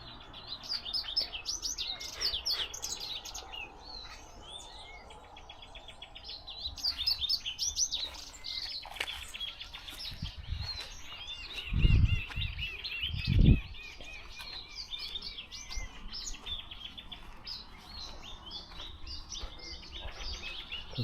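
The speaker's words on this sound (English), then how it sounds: "Plenty of birds here." Birds chirp and sing continuously around a home set among trees, many small tweets and whistles overlapping at moderate distance, with a couple of brief low thumps midway.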